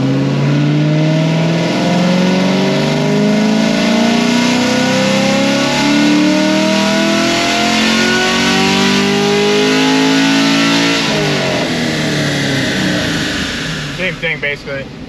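A Chevrolet Tahoe tuned to about 500 horsepower roars through a full-throttle dyno pull, its engine note climbing steadily in pitch for around twelve seconds before dropping off and settling into a lower, loping rumble.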